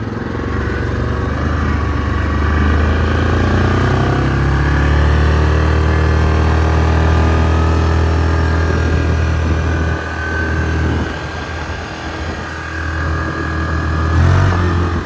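A Yamaha Grizzly 700 ATV engine idles and warms up up close, a loud steady rumbling drone with slight shifts in pitch and a brief dip near the end, and no talk.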